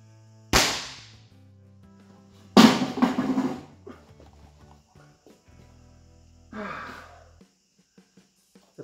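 Three sharp, loud shots from T4E HDR50 and RB50 less-lethal guns rated at 11–12 joules, spaced a couple of seconds apart at close range, with short gasps and breathy reactions after the impacts.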